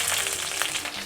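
Shallots sizzle in hot cold-pressed groundnut oil with popped mustard seeds, a close, dense, continuous frying hiss with bubbly crackle and no voices.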